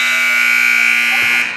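A loud, steady electronic buzzer sounds at a girls' junior varsity high school basketball game, sustained for over a second to end the first half before cutting off.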